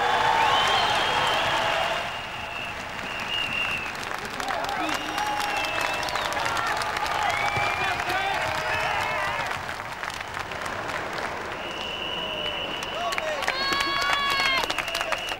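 A packed velodrome crowd of about 2,000 spectators cheers and applauds loudly and continuously as a rider sets off on a world hour record attempt, with whistles and shouts rising over the sustained roar.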